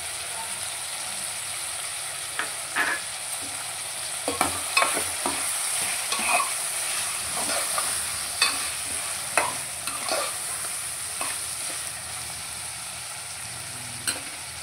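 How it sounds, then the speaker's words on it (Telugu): Chicken simmering in a pan for a Tamil Nadu-style chicken curry, a steady loud sizzle with repeated scraping stirs of a spoon against the pan throughout. "మగ్గాలండి, మంచి మగ్గాలండి చికెన్. మగ్గిస్తుందండి."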